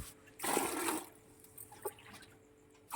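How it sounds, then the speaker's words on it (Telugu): Water is poured from a mug into an aloe vera fertilizer mix, giving a short splashing rush of about half a second. Faint trickles and drips follow in a quiet setting. "ఒక్క మగ్గుకి ఫైవ్ మగ్గుల వాటర్ అయితే వేసుకుంటున్నాను"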